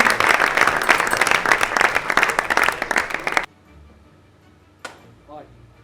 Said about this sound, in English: So if we can give him a big round of applause